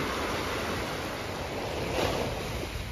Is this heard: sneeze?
no